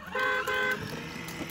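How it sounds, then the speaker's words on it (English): Toy horn on a kids' Vespa scooter ride-on, two loud electronic toots in quick succession close to the microphone, followed by faint outdoor background noise. "Stop honking. Why do you keep honking?"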